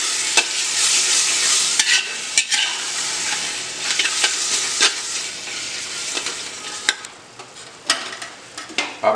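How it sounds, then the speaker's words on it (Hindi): Non-veg curry masala stir-fried in ghee, a steady sizzling hiss with repeated spoon scrapes and clinks against the pan, close and continuous with no talking. "अब इसे बढ़िया भून लेंगे हम।"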